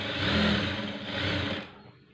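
A sewing machine runs a short stitching burst on a blouse, a steady mechanical whir with a slight swell midway that cuts off near the end, heard alone without talk.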